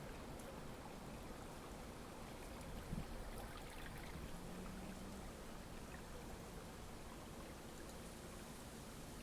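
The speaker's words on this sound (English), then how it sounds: "The roar of the rushing water seems to cleanse you of any lingering tension or stress." Rushing waterfall water makes a steady, soft, broadband roar with an unbroken wash and no distinct splashes, quiet and distant throughout.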